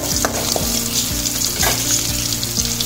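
Garlic sizzles in hot oil in a pan for shark puttu, a loud close frying crackle with rhythmic scraping strokes of stirring repeating about twice a second, no voices.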